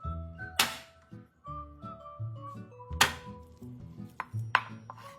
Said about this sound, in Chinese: 鲜虾去壳去线后，净重150克，先用刀拍一拍扁